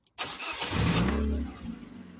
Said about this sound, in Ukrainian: Давайте заведемо машину.